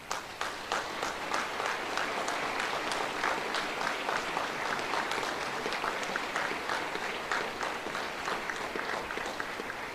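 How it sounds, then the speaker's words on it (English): Sustained applause from a graduation audience honoring newly commissioned United States Navy ensigns at an Officer Candidate School ceremony, steady dense clapping filling the hall for the full stretch with no talk over it. "please help me recognize the United States Navy's newest ensigns. Once again, round of applause, please."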